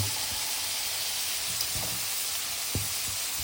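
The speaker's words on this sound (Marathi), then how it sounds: "ही पुन्हा थोडी शिजेल तो पुन्हा आपण ढवळतो आहोत" Padwal (snake gourd) bhaji is stirred in a frying pan, a steady broad sizzle and hiss carrying through with a few soft scraping knocks from the spatula.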